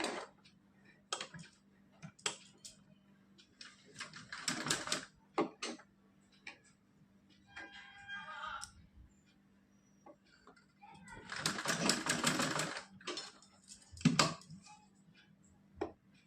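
A sewing machine stitching net fabric for a dress runs in short bursts of rapid mechanical whirring and ticking, with longer runs in the middle, separated by pauses and a person talking.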